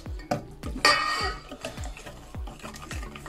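A spoon stirs sugar in a pot while making Russian nut cookies, a series of repeated metallic scrapes and taps against the pot in an uneven rhythm, fairly quiet and close, with one brief clatter.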